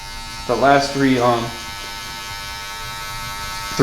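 An electric hair clipper buzzes steadily while cutting a design fade haircut, a close continuous hum with a voice talking over the start.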